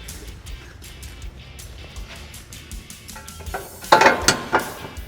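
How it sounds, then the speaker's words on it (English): Metal bolts being threaded by hand into the subframe of a Polaris RZR Pro XP during a rack and pinion install, with soft ratcheting clicks and light metallic taps that build to a few louder clanks near the end. "We'll just go ahead and get all 4 of our bolts started here."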